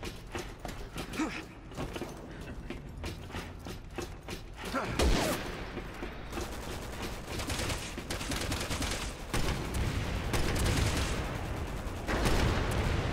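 Sniper gunfire in Resident Evil 6 cracks out in scattered shots over a busy game soundscape of mechanical clatter and creaks, several reports across the span, moderately loud.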